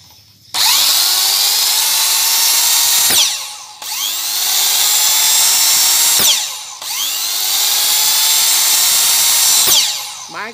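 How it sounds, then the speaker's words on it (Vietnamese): A Japanese 110V handheld power tool runs in three long bursts, each starting with a sharp whine that holds steady and loud before spinning down with brief pauses between runs. "Máy cũng còn chạy rất là êm nha các bạn."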